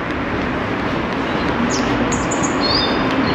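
Small birds chirp in a town street in winter, brief high tweets scattered over a steady wash of traffic and outdoor noise, the calls thin and moderately distant.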